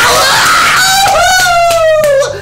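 A man screams loudly and continuously, a wavering, pitched cry that rises and then slides slowly downward, filling the whole moment with strained vocal intensity.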